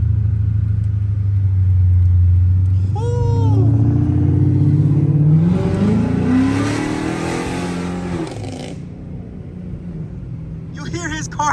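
A Chrysler 300C with a 5.7L HEMI rumbles at idle, then a nearby car at a show revs up with a rising roar and crackly exhaust pops before settling. People talk over the engine noise.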